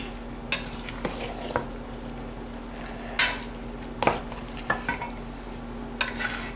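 Southern cornbread dressing mixture is stirred in a pan over a low hum, with a soft continuous sizzle and scattered spoon scrapes and knocks coming every second or so, close by with no talking.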